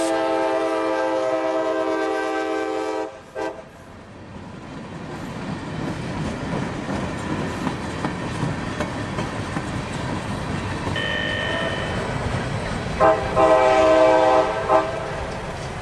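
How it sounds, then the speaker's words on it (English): An Amtrak passenger train passes on a Central Florida main line, sounding a loud sustained horn at the start and again near the end, with the rumble and clatter of the cars rolling by in between. "Amtrak 91 was now in the picture, following 780 towards Tampa"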